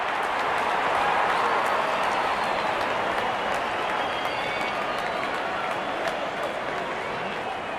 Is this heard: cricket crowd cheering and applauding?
yes